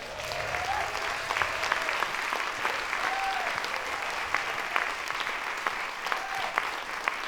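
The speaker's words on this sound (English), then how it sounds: "who deserve your applause one more time" An audience at a folk music finalists' showcase applauds the co-finalists, a sustained wash of clapping with scattered louder claps, steady and fairly close, no voices over it.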